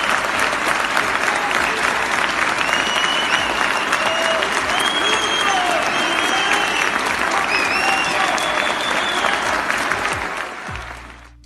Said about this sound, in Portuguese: Esse vídeo mostra o procurador sendo recentemente aplaudido de pé em um teatro de Curitiba